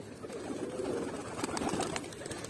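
A pair of pigeons coos steadily and close by, a soft, continuous murmur of low calls with some light rustling and no talk.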